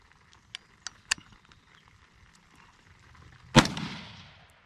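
Rifle shots from a BCM KD4 SPR carbine at an outdoor sniper challenge: a few sharp cracks early on, then a loud close report that rolls away in a long echo.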